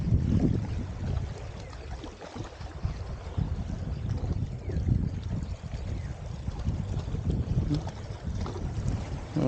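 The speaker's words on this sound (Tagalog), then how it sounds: "Ang hangin niya pabagarne. Galing kaliwa, kanan." Wind sweeps across a fishing boat at sea from left and right, producing a continuous, rumbling buffeting on the microphone with uneven surges and no voices.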